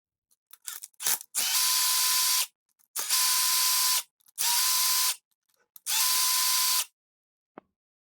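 Picote Smart Cutter pipe-cleaning tool being run in short bursts while its head is removed: four loud whirring power-tool runs, each about one to one and a half seconds, separated by clicks and handling noises, close up.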